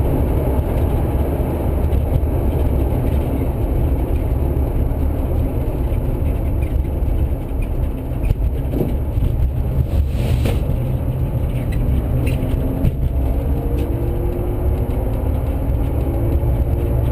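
A home-converted electric VW Transporter Doka on a test drive gives a steady loud road and motor rumble from inside the cab, with a faint whine that rises and falls as it speeds up and slows.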